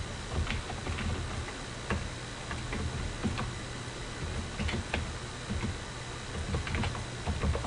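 Typing on a computer keyboard, irregular light clicking keystrokes ticking along close up over a steady background hum, no voices.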